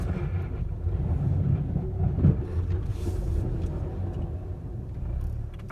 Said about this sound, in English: my car is making some horrible noises